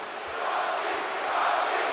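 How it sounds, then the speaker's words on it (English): A wrestling arena crowd cheers loudly for The Rock at a WWF Monday Night Raw show, a steady roar of many voices that swells slightly midway and holds throughout. "as you can hear, the crowd is right behind The Rock here"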